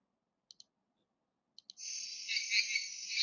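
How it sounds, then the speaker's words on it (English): Jungle frogs from a sound-effect library: a few crisp, separate clicks, then a dense, high-pitched chorus of buzzing calls that starts abruptly and carries on steadily and fairly loud. "So I included some jungle frogs."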